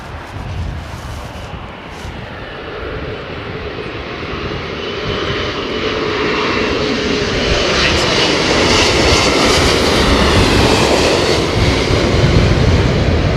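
Thai Airways airliner landing at Heathrow in a crosswind: a loud jet roar builds steadily as the aircraft approaches, with a rising whine and broad rushing noise close by.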